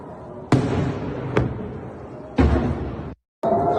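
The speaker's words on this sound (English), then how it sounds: "Here you can see just a massive launch, huge salvo being launched just to shoot down these very cheap rockets" A huge salvo of interceptor missiles launching at incoming rockets over northern Israel: several loud, close booming launches with roaring tails, one after another, before the sound cuts off abruptly.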